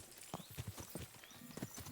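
Horse hooves clip-clop in Kingdom Come: Deliverance II, a steady run of distinct, fairly close strikes at a walking rhythm with no talk over them.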